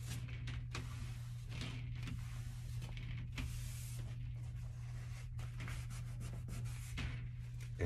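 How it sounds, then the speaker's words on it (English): Cloth wiping oil residue off a metal 48-inch steam radiator cover, a steady rubbing swish with repeated strokes over a constant low hum, close and fairly quiet, with no talking. "just wiping it down to get that oil residue off before we actually do the installation"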